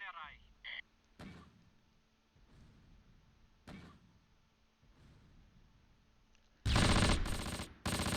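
Sharp gunshots crack at irregular intervals in the Close Combat game, then a loud, sustained burst of rapid automatic fire erupts near the end, with game noise underneath.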